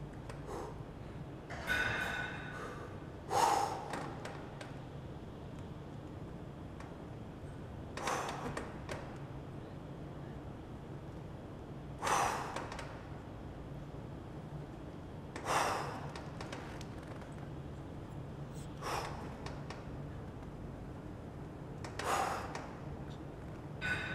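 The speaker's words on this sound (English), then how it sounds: "making sure I breathe out when I'm coming up, breathing in when I'm going back down" Heavy breathing during a set of decline crunches: a forceful exhale comes every few seconds, about six across the set, with quieter inhales and room hush in between and no talking.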